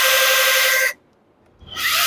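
A battery-powered 8-inch Super Steel chainsaw runs at a loud, high-pitched whine, cuts off into a short near-silent pause, then revs back up.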